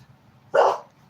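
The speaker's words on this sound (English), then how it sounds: "I don't know who she's barking at." A dog barks once at the door, a single loud, sharp woof that stands out against a quiet room hum.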